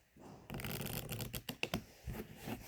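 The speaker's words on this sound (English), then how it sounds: "I just want to do the 100 shuffles." Unsleeved Keyforge cards being riffle shuffled by hand at close range: a quiet pause, then a crisp fluttering burst of cards, a few sharp snaps, and another shorter riffle.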